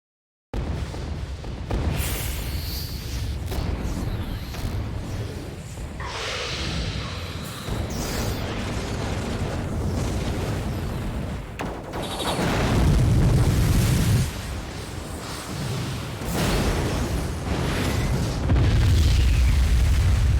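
Heavy booming explosions from an attack in the video game Star Ocean: Till the End of Time, a dense continuous barrage of loud blasts and rumbles with bursts swelling around the middle and end, no talking.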